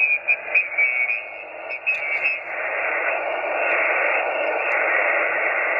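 Band-limited hiss from a Xiegu G90 ham radio receiver fills the clip, with brief crackles and fluttering at first, then settling into a steady, fairly loud static.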